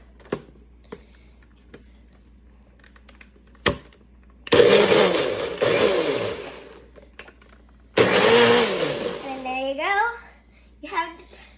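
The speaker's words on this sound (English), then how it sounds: "you put in the blender." A kitchen blender mixes an Oreo milkshake made with ice cream, running in two loud whirring bursts of a few seconds each with pauses between them. A voice and other talk can be heard around the bursts.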